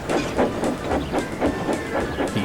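A train shunts coaches into place at a platform, its loud, rhythmic chuffing pulses repeating evenly with a hiss running underneath.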